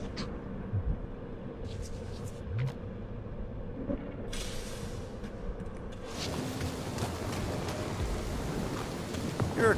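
Rain pouring steadily in Marvel's Guardians of the Galaxy video game, a continuous broadband hiss with low rumbles beneath, growing denser and louder partway through.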